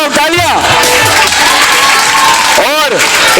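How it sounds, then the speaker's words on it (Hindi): Crowd applause and cheering at a televised Eid musical gala game show, loud and continuous, with a voice calling out over the noise and rising whoops or whistles near the start and end. "तालियां।"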